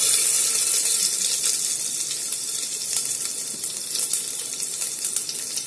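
Cumin and mustard seeds crackle and crushed garlic fries in hot oil while tempering moong dal khichdi, a steady close sizzling hiss with sputtering pops that runs through the whole stretch.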